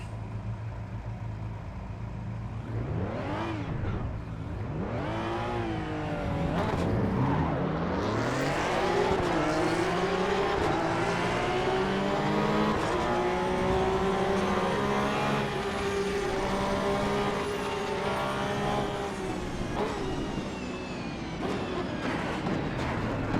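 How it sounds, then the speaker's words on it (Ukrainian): Race car engine in Assetto Corsa EVO on a dry track, loud and continuous with rising and falling revs through gear changes, sustained high-revving drive throughout with no talking. "Тепер по сухому подивимось, як себе тачка почуває на різних типах покриття."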